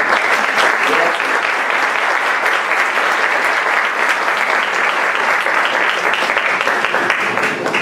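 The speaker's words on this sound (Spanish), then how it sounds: "Por favor, démosle un aplauso de bienvenida." A forum audience gives dense, sustained applause to welcome a speaker to the stage. The loud, even clapping continues without a break.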